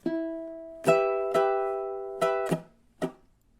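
Six clear ukulele strikes in a minor 12-bar blues riff, from measure 8, come one after another, each chord or note ringing bright and close before fading, with a short decay at the end.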